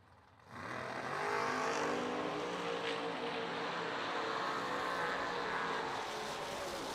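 Dragstrip pass with a Chevy Nova and a Dodge Dart launching side by side, a sustained loud engine roar rising abruptly and holding steady at close range throughout.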